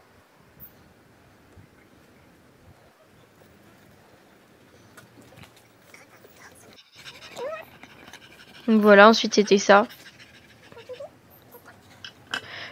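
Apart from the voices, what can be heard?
dog panting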